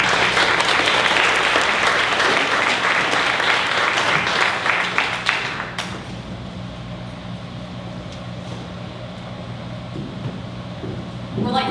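An audience at a city council event against hate applauds: dense, loud clapping for about six seconds that then cuts to quiet room hum with scattered faint noises.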